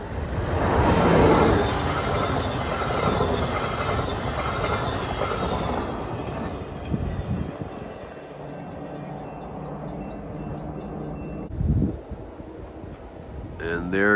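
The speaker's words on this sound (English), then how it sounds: "And here comes the Siemens Venture train set." Via Rail Siemens Venture passenger train set passing on a centralized-traffic-controlled line near Casselman, Ontario: a loud, steady rumble and rush of wheels with wind noise, gradually easing, then a brief clunk near the end.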